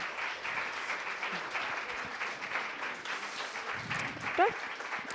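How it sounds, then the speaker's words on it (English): An audience at a recipe workshop applauds in a sustained, even round of clapping, moderately loud and continuous, with a short whistle near the end. "let's give a big round of applause for Susi and Ellen"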